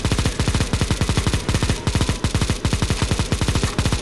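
Rapid automatic gunfire from Counter-Strike: Global Offensive zombie escape, loud continuous bursts of closely spaced shots with brief gaps, filling the whole stretch with no talking.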